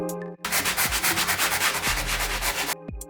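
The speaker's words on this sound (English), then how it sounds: "I used a 180 grit sanding block to smooth over the compound" A 180 grit sanding block scrubbing over dried joint compound on a wall, a steady close, loud abrasive rasping in quick back-and-forth strokes lasting a few seconds, with a brief pause at the start and end.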